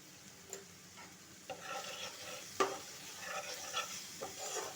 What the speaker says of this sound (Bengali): ভালো করে মশলাটা কষিয়ে নিতে হবে।